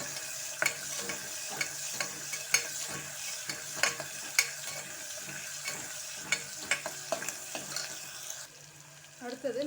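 Onions and green chillies frying in a pan, a steady close sizzle with regular spatula scrapes and stirs, quieting briefly near the end, with no talk.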